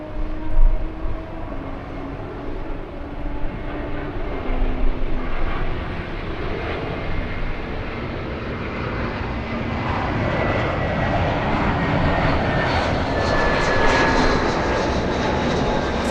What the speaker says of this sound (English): That's an Air Canada A220.